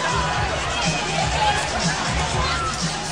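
A basketball arena crowd on the Dallas Mavericks home floor during an NBA Finals game gives off a steady, dense murmur of chatter and scattered shouts, with no clear cheering.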